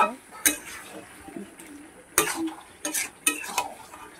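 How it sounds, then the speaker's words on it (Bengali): Chicken and spices being stir-fried in a pan, with a spoon scraping and clinking against the metal in a few sharp bursts over a low sizzle. "এবারে আমি মাংসের সঙ্গে মশলাগুলো ভালো করে আরও কষিয়ে নেবো"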